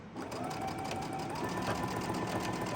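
A sewing machine stitches across the seam of a table runner in one continuous, quiet, rapid mechanical rattle with a faint motor whine, close by and without voices.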